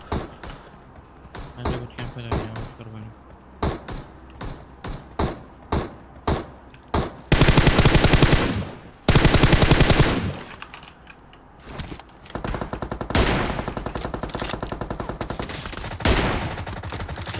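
Gunfire rings out in a PUBG Mobile firefight near a bootcamp: single shots in a quick series, then long loud bursts of automatic fire, close and sharp.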